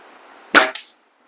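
A Slavia CZ Model 631 air rifle fires a single sharp crack loaded with an 8.44-grain Diablo pellet at 25 yards, followed by a brief second snap, close and alone.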